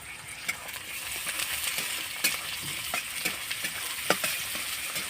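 Beans and mixed vegetables for vegetable chow mein frying in hot oil and being stirred, a steady close sizzle with scattered scraping clicks of the utensil against the pan.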